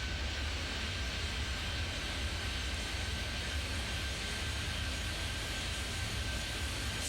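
Steady broadband engine rumble of an airliner landing on runway 24 in the airport management game Airport Madness 3D, a continuous even roar with a faint high whine throughout, no talking.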